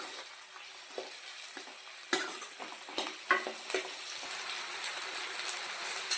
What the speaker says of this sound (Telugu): కొంచెం వేగుతుందండి.